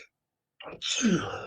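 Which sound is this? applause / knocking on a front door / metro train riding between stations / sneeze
sneeze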